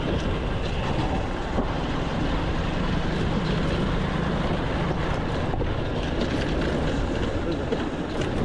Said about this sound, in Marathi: रेल्वे